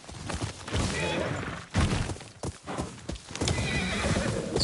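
Horse neighing and clopping hooves in a video game, a loud whinny over rapid hoofbeats, close and busy, with a few heavy thuds.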